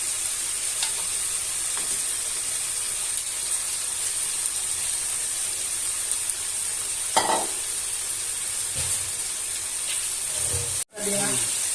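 Marinated chicken for papaya chicken curry sizzles and hisses steadily in a hot pan, a loud continuous fry with occasional stirring scrapes and a brief break near the end.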